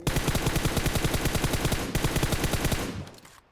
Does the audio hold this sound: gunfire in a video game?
yes